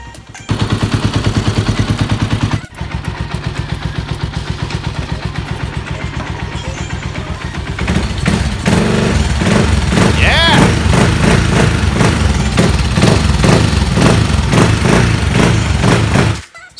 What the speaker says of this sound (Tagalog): nakita ko naman na wala ng hesitation yung makina at running smoothly naman siya